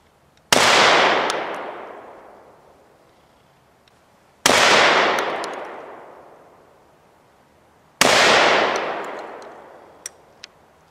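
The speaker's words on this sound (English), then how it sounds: "you just shot your first 30-30 lever-action Marlin and your first 20-gauge shotgun" Three loud, sharp rifle and shotgun blasts from a 30-30 lever-action Marlin and a 20-gauge shotgun, spaced about four seconds apart, each with a long rolling echo that fades out across an open range; faint clicks follow the last shot.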